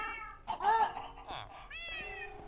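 Cats in the video game Minecraft meowing close up, several distinct mews in quick succession, some overlapping, with a voice speaking in between.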